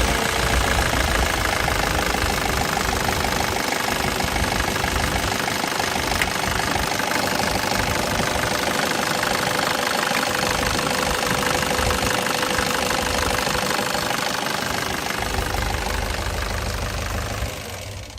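The diesel engine of a 2005 Nissan Urvan E25 van idles steadily, with a loud, even clatter and knock that holds for the whole stretch, close up and with no voices over it.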